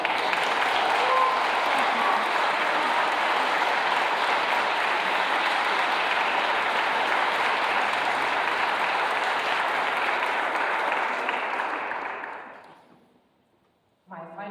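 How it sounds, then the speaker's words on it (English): An audience claps loudly and steadily for about twelve seconds at an honor band concert before the applause fades away, and a voice starts up at the end. "can you give a round of applause to your parents, to your directors"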